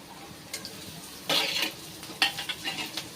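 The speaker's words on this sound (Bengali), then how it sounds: "এবার এই লঙ্কা আর রসুনটাকে কিন্তু একটু ভালো করে ভেজে নেবো যতক্ষণ না রসুনটা লাল লাল হচ্ছে।" Garlic and slit green chilies fry in a pan in a home kitchen, with bursts of sizzling and stirring scrapes coming in uneven clusters up close, no talking.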